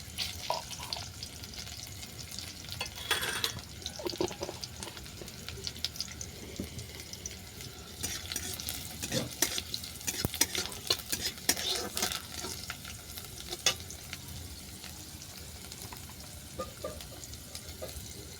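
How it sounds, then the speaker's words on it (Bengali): Black cumin seeds frying in oil in a pan, a quiet continuous sizzle with occasional stirring scrapes and bursts of crackle, plus a faint watery trickle in the background. "এর সঙ্গে দিয়ে দিলাম কালো জিরে,"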